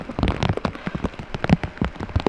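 Steady rain pattering on a tent during a camping trip, dense irregular drops tapping close by with no voices.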